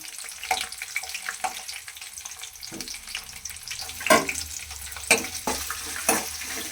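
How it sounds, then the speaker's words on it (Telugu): Peanuts frying in hot oil until deep red, a steady crackling sizzle with several sharper clatters of stirring or tossing in the pan, close and fairly loud, no voices. "బాగా ఎర్రగా వేగాలి"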